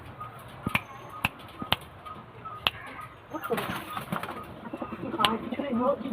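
Pigeons at a house in a village neighbourhood make sharp wing claps and soft cooing and rustling, with a few distinct flaps early and busier bird activity later as people talk nearby.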